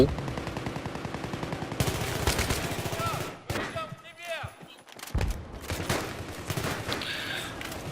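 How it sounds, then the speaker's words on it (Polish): Gunfire in the video game Battlefield 3, rapid bursts of shots and loud fusillades crackling through the clip with game effects, while a player talks intermittently over the battle. "Ktoś do mnie strzela"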